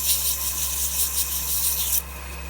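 A wooden napkin ring spins on a running lathe while 220-grit sandpaper is pressed against its edge, giving a close, steady hissing rub over the lathe's low hum, easing off near the end.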